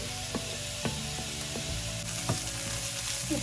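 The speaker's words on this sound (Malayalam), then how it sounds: "ഇത് ഇങ്ങനെ ഇളക്കിക്കൊണ്ടിരിക്കണം." Onions sizzle in a pan on the stove while being stirred, a soft, steady frying hiss broken by a few scraping spoon strokes. It is quiet and close, with no voices.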